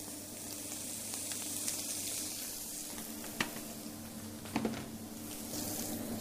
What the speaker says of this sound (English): we're just going to check on our scallops.